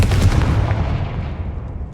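A Confringo blasting spell explodes in Hogwarts Legacy with a single loud, close boom that rolls off into a fading rumble over about two seconds.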